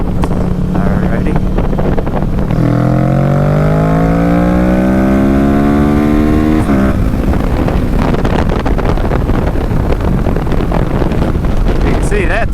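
A Kawasaki Z650 motorcycle with a flashed ECU and raised rev limiter accelerates hard from third gear, its engine note climbing steadily in pitch over several seconds before cutting off sharply, with heavy wind buffeting throughout.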